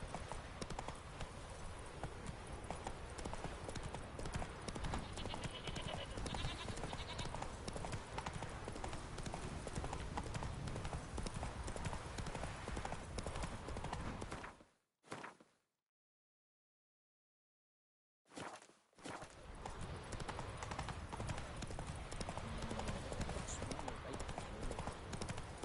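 Roach, the horse in The Witcher 3, trots with steady clip-clopping hooves, dense and loud over game ambience, cutting out to near silence for a few seconds before resuming.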